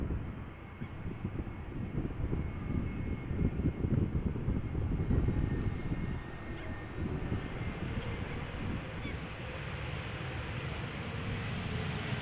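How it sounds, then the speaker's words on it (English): Vueling Airbus A320neo arriving from Barcelona and landing at Amsterdam Schiphol, heard as a steady, loud low jet roar with broadband rumble that holds through the whole stretch, swelling slightly midway and settling into a sustained drone. "this is an A320neo from Vueling arriving from Barcelona"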